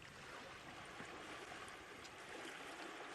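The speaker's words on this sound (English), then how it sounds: "They're causing waves to lap up on the shore of this waterhole" Water laps steadily against the shore of a waterhole as heavy elephants move through it, a continuous wash of gentle surf and trickling with no voices.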